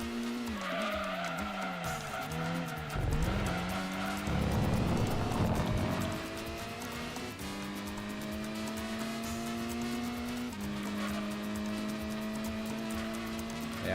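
Race cars lapping Laguna Seca in Gran Turismo 2, a Supra and a 300ZX among them, with engines droning and shifting pitch continuously, rising and falling through gear changes, along with bursts of tire skidding, steady and loud with no talk.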